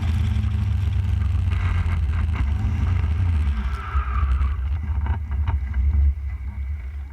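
Heavy rain pouring down at Blyton Park race track, a loud steady roar of downpour mixed with rumbling wind buffeting the microphone, continuous throughout with a slight drop near the end.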